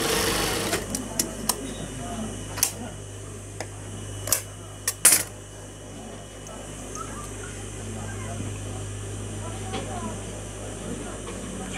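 A sewing machine runs along the lower hem of a boy's salwar, a steady low mechanical hum punctuated by a few sharp clicks and taps, with faint background voices.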